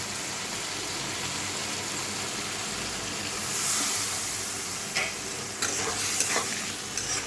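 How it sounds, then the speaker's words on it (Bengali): Spices with turmeric and green chillies fry in oil, a dense, steady close sizzle with occasional spatula scrapes and clinks toward the end, no one speaking. "মশলাটা আমি ভালো করে ভেজে নেব।"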